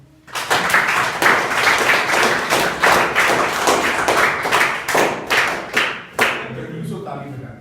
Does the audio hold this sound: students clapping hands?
yes